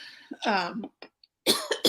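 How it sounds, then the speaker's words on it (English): A few harsh coughs come close up, broken by short pauses, with a voice sounding between bursts. "excuse me, I'm coughing"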